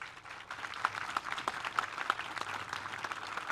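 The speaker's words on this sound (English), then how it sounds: "Give them a round of applause." Moderate applause from an audience at an artwork dedication ceremony, a steady patter of clapping with a few louder individual claps standing out.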